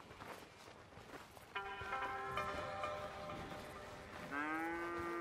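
Cattle mooing in Red Dead Redemption 2, with two long, loud harmonic moos, one starting around the middle and a second near the end, over a low steady farmyard ambience.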